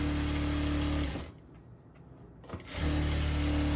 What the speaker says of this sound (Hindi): चलिए मैं डबल सिलाई लगा देता हूँ ऐसे